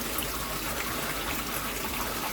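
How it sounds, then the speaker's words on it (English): Garden pond waterfall dropping into the water at low flow, a steady close wash of splashing and trickling that fills the short stretch evenly with no voices. "my waterfall that just drops in"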